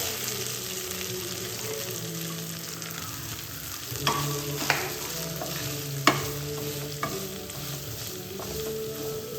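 Sliced onions frying in a pan for paneer curry, a steady close sizzle with several sharp spatula scrapes and clinks against the pan, no talking.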